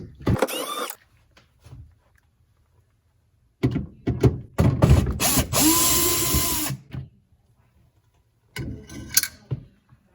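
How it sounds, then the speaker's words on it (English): A power screwdriver runs in short bursts while Phillips head screws are removed from the ice maker unit of a Samsung freezer, with clunks and handling noises between the bursts and quiet gaps in between. "these two Phillips head screws right here that are just holding the bottom of the whole ice maker unit in. Just gonna remove those."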